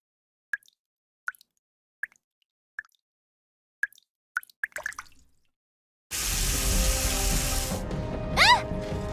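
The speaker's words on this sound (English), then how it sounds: "Water's coming from the ceiling!" Water leaks from the ceiling in the game Goddess of Victory: Nikke: a series of single, sharp plopping drips at uneven intervals, then a sudden, steady rush of pouring water that continues loudly to the end.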